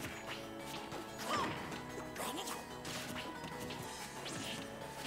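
Sharp smash attack hits from Super Smash Bros. Ultimate in a Wii Fit Trainer versus Greninja match, several crunchy impacts and whooshes over busy game music and effects.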